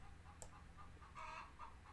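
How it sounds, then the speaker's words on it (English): Hens clucking in a backyard coop in rural Arizona as one lays an egg, faint and somewhat distant, with a couple of short squawky bursts over a low steady background hum. "I think one of the chickens is laying an egg."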